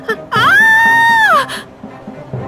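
A woman in a Hindi horror story lets out a single loud, sustained scream of about a second, rising sharply and then trailing off, with faint background sounds around it.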